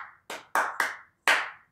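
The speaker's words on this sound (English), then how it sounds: "So you're just going to hear the clapping." Five sharp hand claps in a quick uneven rhythm, the first softer and the next ones crisp and loud, with brief silent gaps between them and no voices.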